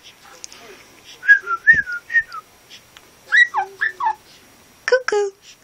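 A pet bird whistles a run of bright, chirpy phrases in short bursts with pauses between them, close and clear, ending in a quick flurry of rising notes.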